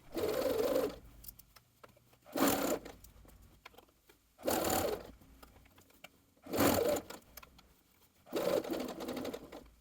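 Five evenly spaced bursts of a sewing machine joining bomber jacket pieces, each a brief close whirring run of stitches separated by quiet pauses.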